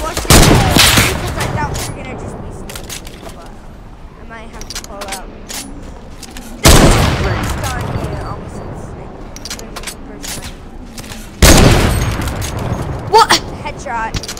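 Gunfire in the video game Fortnite: three loud, sharp bursts of shots spaced several seconds apart, each followed by a decaying tail, with people talking over the game sounds throughout.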